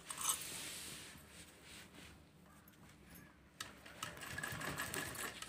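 A sewing machine stitches a jumbo grocery bag with a continuous rapid mechanical whir, fairly faint and close, briefly easing in the middle before running on again, with no talking.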